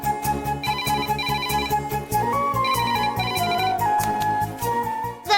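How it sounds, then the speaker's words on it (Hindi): A mobile phone plays a looping melodic ringtone, steady and fairly loud throughout with a repeating pulse under a bright tune, with no voices over it. "गंगा का ही फोन आया होगा।"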